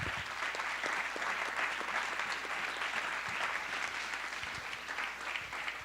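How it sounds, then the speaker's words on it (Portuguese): A church congregation applauds steadily at a Brazilian evangelical worship service, a dense, even roar of many hands clapping without pause, fairly loud and close, with no talking over it. "Vamos dar um aplauso ao Senhor."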